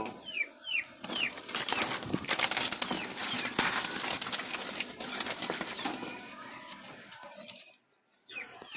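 Wild Jalali pigeons flutter and flap their wings in a loud, restless burst lasting several seconds, with a few soft chirps before and after.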